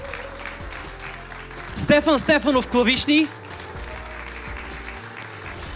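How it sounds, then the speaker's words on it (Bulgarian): A studio audience at a Bulgarian TV concert applauds the musicians, steady clapping running throughout while a presenter speaks over it midway. "Аплодисменти за музикантите"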